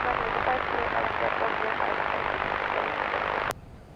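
Airbus A321neo airliner at Madeira Island Airport in windy conditions, a steady broadband engine roar held close and loud, cutting off abruptly near the end.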